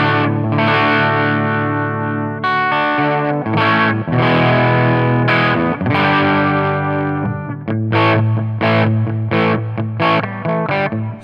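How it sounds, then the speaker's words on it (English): A heavily distorted electric guitar through a Pigtone English Man distortion pedal plays chords and riffs, loud and saturated with a thick, buzzing tone, with brief pauses between phrases near the end. "So it is probably a distortion pedal."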